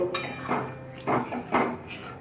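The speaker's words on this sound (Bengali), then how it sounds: "এবার আবার একবার নাড়িয়ে পুরোটা মিশিয়ে দেব" A spoon stirs vegetarian aloo dum with garam masala and ghee in a pot: four distinct scraping clanks of metal against the pot come at a steady rhythm, close and moderately loud, with no voices.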